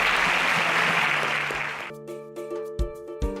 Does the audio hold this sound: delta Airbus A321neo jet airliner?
no